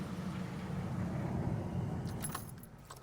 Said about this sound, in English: After a minute, we're going to shut the vehicle off.